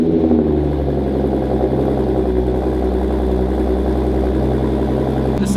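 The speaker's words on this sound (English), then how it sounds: "let me go ahead and give you guys basically a cold start" A B8.5 Audi S5 with a full AWE touring exhaust and resonated downpipes runs at a cold start, giving a steady, loud, deep idle drone that holds evenly throughout with no talking.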